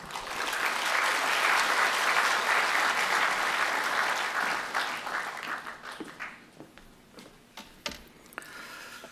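Church congregation applauding as the pastor comes forward, a dense burst of clapping that holds for several seconds and then thins out into a few scattered, separate claps.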